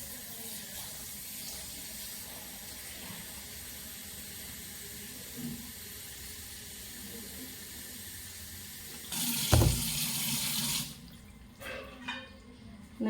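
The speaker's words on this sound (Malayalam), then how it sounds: "ഇതിലേക്ക് കുറച്ച് വെള്ളം ഒഴിക്കുകയാണ്" Water poured into a pot of cooked macaroni, a soft, steady trickle that runs for several seconds before a brief, louder splashing gush, then quieter dribbles and light clatter.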